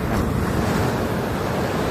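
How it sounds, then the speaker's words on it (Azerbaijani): Sea waves wash steadily against the shore, a dense, unbroken roar mixed with gusting wind noise on the microphone, with no speech. "İndi isə dənizdəyəm."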